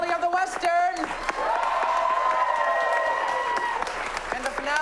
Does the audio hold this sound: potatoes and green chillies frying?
no